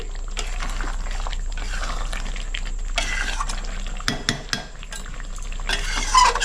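Chicken kosha being stirred in a pan after garam masala goes in, with close scraping and stirring scrapes and clinks over a steady sizzle, in short bursts.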